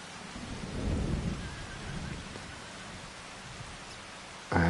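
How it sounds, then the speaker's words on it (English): A thunderstorm in Farming Simulator 25: steady rain falls with a low thunder rumble swelling early, then fades to a constant hiss before a sudden louder burst at the end. "And it sounds like it might be a thunderstorm."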